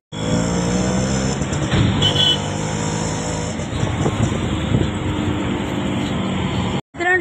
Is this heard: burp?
no